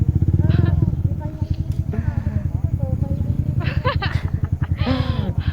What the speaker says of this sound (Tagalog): Motor pala.